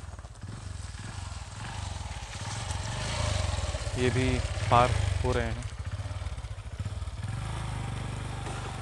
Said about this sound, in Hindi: अच्छा एक बाइक भी है,